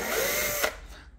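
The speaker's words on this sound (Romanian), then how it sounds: "O să dau găuri." A power drill bores holes into the plastic bumper of a Citroen C4 to fit parking sensors. The steady, close, loud whine runs for a little over half a second, then cuts off and is followed by a quieter tail.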